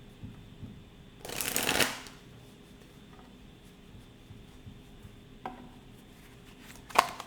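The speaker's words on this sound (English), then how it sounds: "Last shuffle, Spirit." Tarot cards are riffled in one quick, crisp burst close by, followed by a few faint taps and a short final flutter of cards in an otherwise quiet room.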